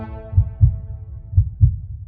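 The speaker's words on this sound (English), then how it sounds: "The heartbeat filled the room, growing, growing, until I snapped." A heartbeat sound effect plays as two pairs of deep, booming lub-dub thumps over a low droning hum, loud and close.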